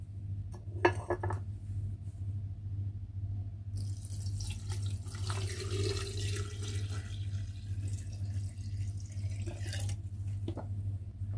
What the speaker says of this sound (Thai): น้ำเชื่อมที่เราพักจนเย็นสนิทแบบนี้นะคะเราจะเทลงไปในโหลเลย